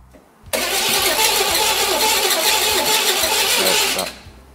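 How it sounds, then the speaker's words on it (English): A car engine being fired for the first time after a rebuild catches almost at once and runs loud and rough, with a steady roar that holds for about three and a half seconds before shutting off abruptly. "we got everything hooked up enough to try to fire the engine"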